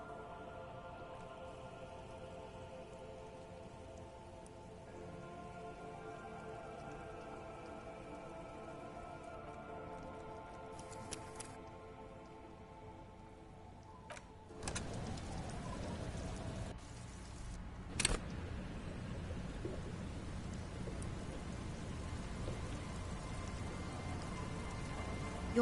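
Steady rain falls throughout a scene in the Disco Elysium video game, a constant dense hiss that thickens midway, with a few brief clicks over a low background hum.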